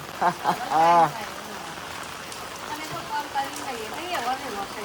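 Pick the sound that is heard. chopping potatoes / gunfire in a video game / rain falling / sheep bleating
rain falling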